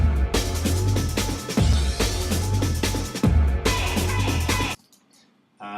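An original drum breakbeat sample used for a song, a loud, punchy looped pattern of kick, snare and busy hi-hats that cuts off near the end, leaving near silence.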